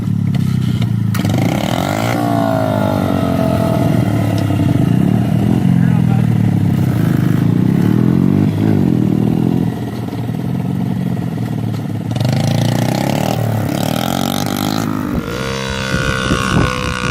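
A kid's small motorcycle engine revving loudly and close, rising and falling in pitch with gear changes throughout, while someone talks over it.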